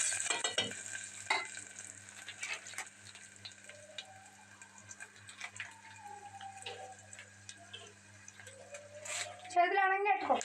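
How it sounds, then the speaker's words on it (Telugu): Spices tempering in a pan for gongura cooking, a faint sizzle and frying crackle with occasional stirring scrapes, quiet and close, while a person talks over it and a low steady hum runs underneath. "తాలింపులు అయితే వేసేస్తున్నాం."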